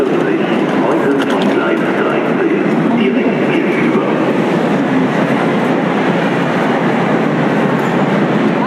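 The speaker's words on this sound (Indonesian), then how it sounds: "Ini kereta kita sekarang." A passenger train rumbles and clatters continuously close by at an Indonesian station, with a steady loud roar of wheels and carriages throughout.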